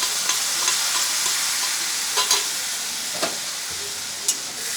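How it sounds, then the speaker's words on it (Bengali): Fried potatoes sizzle steadily in hot oil in a kitchen pan as spice paste is stirred through them, with sharp scrapes and clinks of the spatula cutting in now and then over the continuous frying hiss. "এবার মশলা দিয়ে আলুটাকে ভালো করে কষিয়ে নেব"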